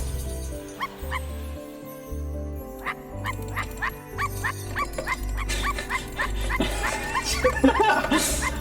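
A dog in a video game barks and yips in a rapid series of short, high barks over low music. The barks come at an uneven rhythm, close by, and grow busier toward the end.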